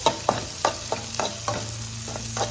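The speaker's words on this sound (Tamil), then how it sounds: "இப்போ வெங்காயம் நல்லா வதங்கட்டும்." Onions sauté in a hot pan under a continuous sizzle while a spoon stirs them in regular scraping strokes, about three per second, close and clear with no voices.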